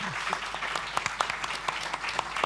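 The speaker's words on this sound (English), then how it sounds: "This is your applause" Audience applause for conference panelists at a plenary session: thin, scattered claps from a modest crowd, moderately quiet, with individual hand claps distinct over a soft wash.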